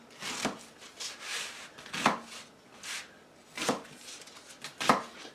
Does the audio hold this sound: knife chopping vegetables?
yes